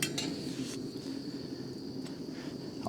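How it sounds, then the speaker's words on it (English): A few light metallic clinks and knocks as a kettle is set on a Camping Moon XD3F butane stove, over a steady low hiss and faint outdoor background. "Put the kettle on."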